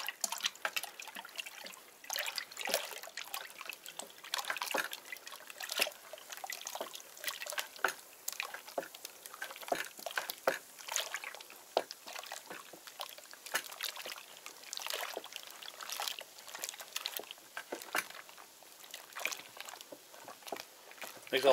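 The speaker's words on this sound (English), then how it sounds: "This will be the first stirring." Homemade plum wine mixture of sugar and yeast gets its first stir, wet liquid sloshing and dripping in uneven splashes, close and fairly soft.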